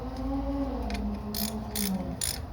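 A ratchet wrench turns a spark plug on a 4-cylinder car engine, giving quick close clicking bursts of the pawl over a steady background hum.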